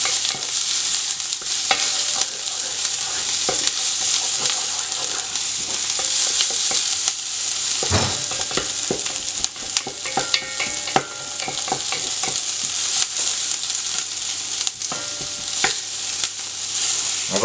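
Veal shanks for osso buco brown in a frying pan, a steady loud sizzle with occasional stirring and scraping, no voices.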